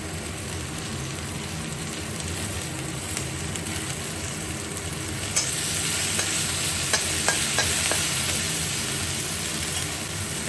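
Chicken frying in a pan with two green chillies and ginger paste, a continuous hissing sizzle that swells louder midway, with a few soft clinks of stirring.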